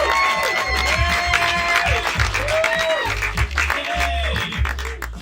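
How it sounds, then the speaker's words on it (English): Comedy club audience applauding for comedian Jason Melton at a late show, a sustained wash of clapping with cheers, while a bass-heavy walk-on song plays loudly over it. "I need you guys to start clapping right now for Jason Melton"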